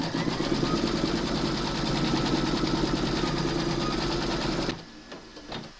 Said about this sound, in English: stitch round number 10